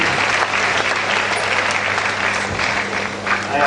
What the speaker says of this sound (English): Please let us give another round of applause to Dr. Guru.